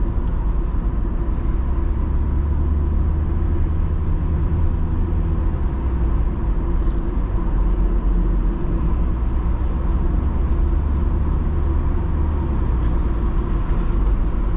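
A 2003 Volvo S40 1.9T cruises along a back road, its engine and road noise forming a steady, continuous low rumble heard from inside the cabin with no talking.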